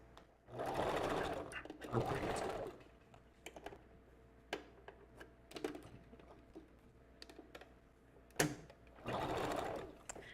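A sewing machine back stitches along a custom glueless wig, running in loud rapid bursts at the start and end with scattered clicks and brief stitching in between.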